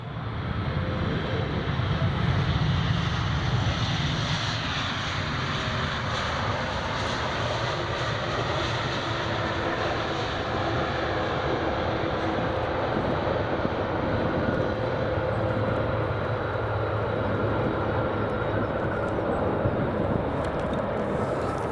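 A Delta Airlines jet landing at Edinburgh Airport gives a loud, sustained broadband engine roar that fills the whole stretch, with wind buffeting the microphone and no talk.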